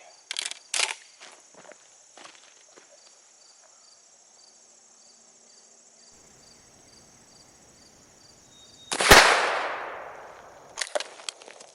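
A single loud blast from a Stoeger M3000 shotgun loaded with #8 shot and fitted with a 0.685 choke, following quiet outdoor crickets and a few clicks, its report decaying over about a second.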